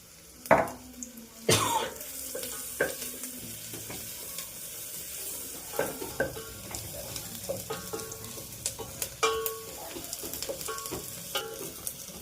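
Ginger and turmeric fry in a pan for spicy pongal, giving a soft continuous sizzle broken by sharp spoon clinks and scrapes against the metal, with a few louder knocks near the start.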